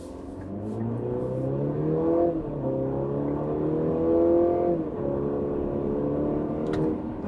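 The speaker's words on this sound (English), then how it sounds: "So let's go up to highway speed, shifting into sport mode. We'll go in 3, 2, launch control, 1." A 2025 Cadillac CT5 with a 2-liter turbo engine launches hard in sport mode, heard from inside the cabin: the engine drone climbs steadily in pitch, drops briefly at each upshift and rises again toward highway speed.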